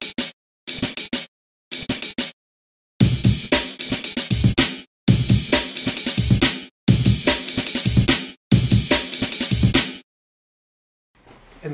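Electronic drum kit pads played in a breakbeat pattern: quick busy kick, snare and cymbal hits in bursts separated by brief silences, close and loud, with no voices.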